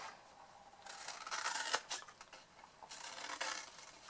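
Scissors snip the edges of quilted fabric for a Christmas chocolate box, a few soft crisp cuts in two short bursts, close and quiet with no talk.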